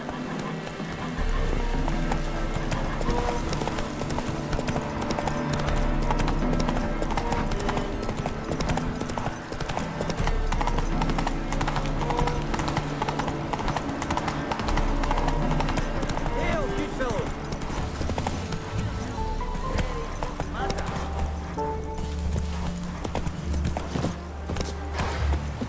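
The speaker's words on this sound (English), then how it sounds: "Giddy up." A horse in The Witcher 3 gallops with a steady, driving clip-clop of hooves, loud and continuous, with game music layered beneath and someone talking at points.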